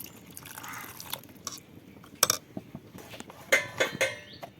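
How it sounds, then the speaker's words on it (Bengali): Water is used to rinse a kitchen mixer jar, producing scattered clinks of the jar, sharp knocks and dripping splashes in short irregular bursts against a quiet background. "মিক্সারটা একটু ধুয়ে জল দিয়ে দেবো"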